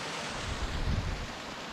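Water running off a mountainside in Scotland makes a soft, steady rushing wash, distant and fairly faint, with some wind noise mixed in and no talking.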